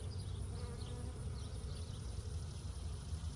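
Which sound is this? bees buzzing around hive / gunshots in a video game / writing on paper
bees buzzing around hive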